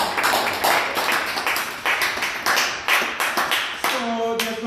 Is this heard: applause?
yes